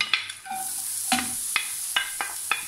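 Onions sizzle softly in a spoonful of oil in a pan, a low steady hiss punctuated by several sharp clicks and scrapes of a utensil, close and unaccompanied by speech.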